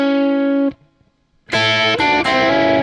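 Distorted electric guitar plays a short two-string blues-rock lick: one sustained note, a brief gap, then a loud, bright ringing double-stop figure that restrikes twice, played alone.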